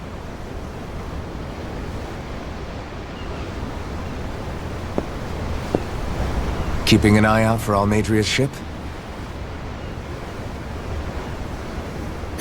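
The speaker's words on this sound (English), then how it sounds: "The ocean? Yeah. The waves. They help me think." Ocean waves wash steadily at sea in the Tales of Arise video game, a constant surf hiss under a brief spoken line from a character aboard a ship.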